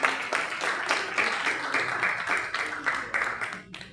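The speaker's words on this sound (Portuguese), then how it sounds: "Aplauda o Senhor." A church congregation claps along in a steady rhythmic beat, the sound filling the room for several seconds before it thins out at the end.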